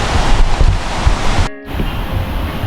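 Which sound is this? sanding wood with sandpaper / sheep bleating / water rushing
water rushing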